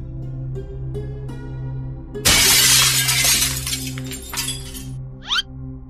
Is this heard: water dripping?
no